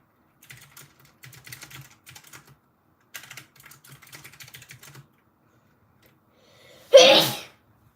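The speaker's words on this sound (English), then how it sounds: "I did not just sneeze on my keyboard or Bible." Light computer keyboard typing clicks in short bursts, then a pause and one loud close sneeze right next to the keyboard.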